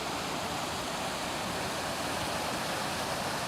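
Lost Creek water rushing where it disappears underground in a wilderness area, a steady broadband roar of flowing water, continuous and close, with no voices.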